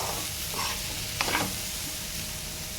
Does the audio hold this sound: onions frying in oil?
yes